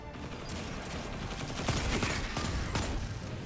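Service Revolver precision hand cannon firing in Destiny 2, a cluster of sharp gunshot cracks amid dense game noise, with heavier bursts around the middle and near the end, fairly close and punchy.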